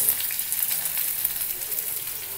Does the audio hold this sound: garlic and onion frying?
yes